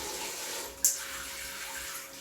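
A rechargeable Companion Aqua Cube Logic camping shower sprays water on a tight, condensed setting, giving a steady close hiss with one brief splash or clatter near the start.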